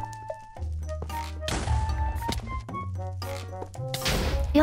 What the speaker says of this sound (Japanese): よし、クリスタル破壊完了。